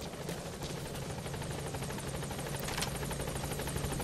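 A helicopter in the video game Metal Gear Solid 5: The Phantom Pain arrives at a landing zone, its rotor a steady rhythmic thumping and engine whine held at a constant level throughout.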